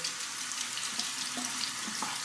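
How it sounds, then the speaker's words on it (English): Hot water runs steadily from a tap onto a shaving brush, a constant soft hiss and splash with small spatters, alone and close. "Under the hot water, saturate it."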